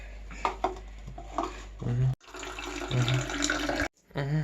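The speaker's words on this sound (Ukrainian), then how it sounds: "Вилили, помили руки і йдемо далі." Hands are washed under a running tap after a painting session, with short bursts of splashing water broken by brief pauses, close and moderately loud, while a voice and light handling noises come in around the water.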